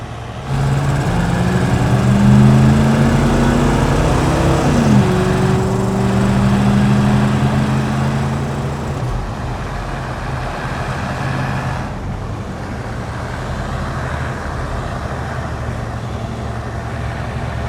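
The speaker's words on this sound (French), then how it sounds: "j'ai rajouté un autre son de moteur à des moments précis" A steady engine drone with rising and falling tones of revving and shifting pitch, close and loud at first, then settling into a lower steady hum.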